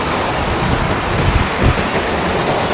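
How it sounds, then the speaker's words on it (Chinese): A mountain stream in Xinjiang flows steadily, a loud, continuous broadband rush of water close by with no pauses or voices. "背面同样是小溪河流。"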